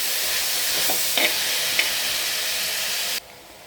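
Onions and salt hiss and sizzle in a hot pan while being stirred, with a couple of brief scraping strokes over a steady frying noise that drops off abruptly near the end.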